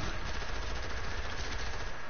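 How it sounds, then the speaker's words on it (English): Heavy gunfire in a multiplayer battle-royale shooter game plays as dense, continuous crackling bursts that fill the whole clip at a steady loudness, with no pause and no voices. "there's a lot of gunshots"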